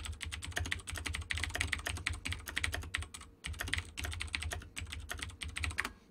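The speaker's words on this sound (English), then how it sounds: "I have this like super loud keyboard" Rapid typing on a very loud computer keyboard, close and clattery with dense bursts of keystrokes and a brief pause partway through, no speech.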